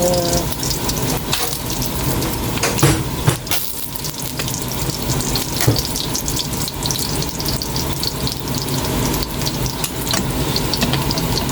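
Tambakol tuna frying in a pan gives a steady, dense sizzle and crackle that runs unbroken, with occasional small pops and no talking.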